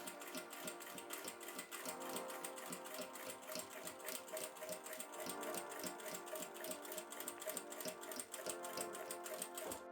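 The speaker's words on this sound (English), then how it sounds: "Stitch precisely from one corner to the other along the marked line." A sewing machine runs continuously, stitching a vest welt along a marked line with a fast, even mechanical rattle, quiet and unbroken, with no talking.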